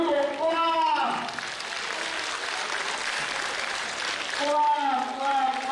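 An audience claps together at a national reunion conference: a steady wash of applause fills the middle of the clip, with a voice speaking before and after it.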